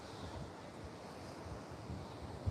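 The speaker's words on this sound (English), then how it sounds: "you can tell the wind now" Strong coastal wind blowing over a hill at Snapper Rocks, a steady rushing buffet against the microphone with a low surf-like roar underneath, constant and fairly loud for the whole short stretch.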